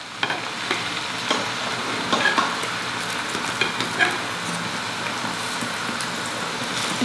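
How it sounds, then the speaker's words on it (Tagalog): A burger patty fries in oil that is still warming, a soft continuous sizzle with occasional light crackles and a few utensil knocks, close and without speech. "So kukuha lang muna ako ng isang peraso natin na patty. At yan ang ipiprito natin."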